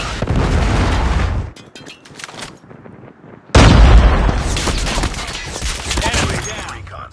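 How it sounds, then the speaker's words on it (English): In Call of Duty Mobile, a Predator missile strike lands with loud booming blasts and crackling gunfire-like bursts, then a brief lull and another heavy explosion that rumbles on. "Friendly Predator missile inbound."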